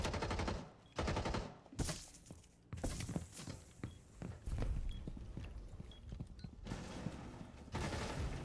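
Rapid gunfire from pre-firing in the video game Rainbow Six Siege comes in loud, dense bursts of sharp shots with brief gaps between volleys, along with clattering footsteps and game sounds.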